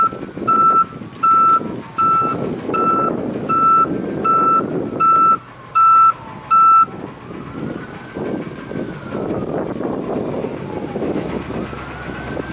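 A fire truck's reversing beeper sounds in a steady run of about nine loud pulses over its rumbling engine, then stops while the truck keeps idling and moving with wind buffeting the microphone.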